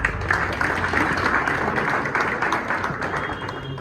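Audience applause welcoming a guest at a pigeon fanciers' club gathering in Moradabad, a steady wash of many hands clapping that fills the whole stretch at close range, holding level before easing slightly at the end.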